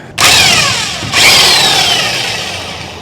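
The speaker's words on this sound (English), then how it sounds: "I'm just going to take that socket and throw it on an impact to make things speedy" Impact wrench loosening differential cover bolts on an M1028 CUCV (K30): two loud, close bursts of whirring with a hammering rattle, the second running longer and slowly fading.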